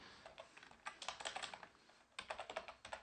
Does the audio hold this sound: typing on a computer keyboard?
yes